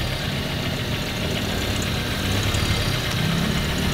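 Toyota Corolla engine idling while warming up after a valve seal replacement, a steady low rumble with faint knocking, close and continuous with no talk.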